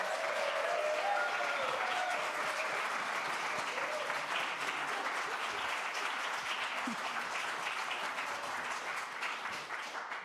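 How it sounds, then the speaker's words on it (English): A Unitarian Universalist congregation at a Sunday service applauds and cheers to welcome new members, with sustained, full clapping from a large room that slowly thins toward the end, with some voices mixed in. "would you join me with your applause and cheers in welcoming our newest members"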